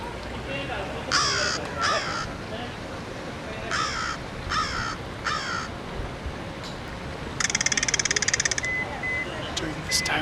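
Common ravens give several bursts of harsh cawing, some near and some farther off, over steady outdoor background noise, ending in a rapid run of calls.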